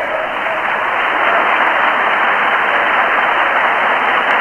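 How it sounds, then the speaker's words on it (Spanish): Deputies in the Spanish parliament applaud a minister's speech during a 1980 censure motion debate, a continuous, even roar of clapping from a large chamber that stays loud and steady throughout. "los que están aplaudiendo la intervención del ministro, señor Arias Salgado."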